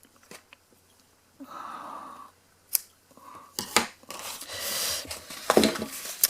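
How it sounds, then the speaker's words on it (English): Several crisp snips of scissors trimming the ends of a ribbon bow on a paper milk-carton treat bag, close and clear, with light handling rustle between the cuts and no talk. "Let's just trim those ends."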